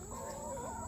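Laying hens in a semi-free-range coop cluck in a short, steady burst, close by and fairly loud against a constant background hiss.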